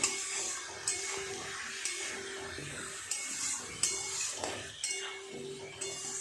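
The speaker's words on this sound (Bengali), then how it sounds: "সবজিটা দিয়ে একটু মশলার সাথে এইভাবে কষিয়ে নেব।" Fried potatoes and pointed gourd with spices are stirred in a pan, giving soft, regular scrapes and clinks about once a second over a faint sizzle.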